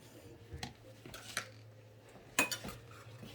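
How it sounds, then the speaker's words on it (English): Butter being stirred into chicken wings in a pot, a few faint metal scrapes and clinks of a spoon against the pot, quiet and sparse over a low background hum. "And stir that in, get it nice and stirred in and melted"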